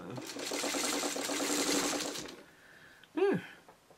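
A sewing machine runs steadily for about two seconds, stitching two quilt blocks together, then stops. A short rising-and-falling tone and a sharper noise follow near the end.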